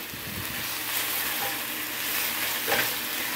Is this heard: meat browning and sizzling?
yes